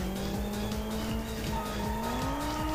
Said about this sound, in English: Oh, there's a drift. I found a drift. I picked a car with the drift mechanic.